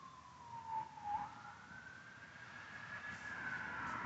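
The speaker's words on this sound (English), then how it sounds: "Don't worry about that siren." A siren wails in the distance, its pitch rising and falling, faint against a low background rumble.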